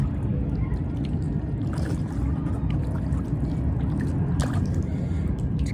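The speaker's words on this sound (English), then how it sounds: "It's a good day for a paddle." A kayak paddle dips and swishes through the water of a creek, with soft splashes and drips over a steady outdoor background.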